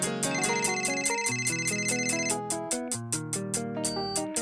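A melodic phone ringtone plays a repeating electronic tune with a steady rhythm, loud and close, with no talking over it.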